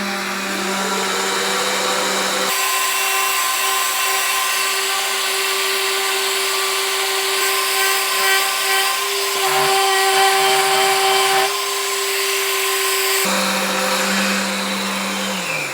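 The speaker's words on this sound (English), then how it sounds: "when I go ahead and sand it down, it's going to come out just fine" A power sander works a wood spline on a mitered corner joint in a woodworking shop, giving a loud, steady whine that runs throughout, its tone shifting slightly as pressure on the workpiece changes.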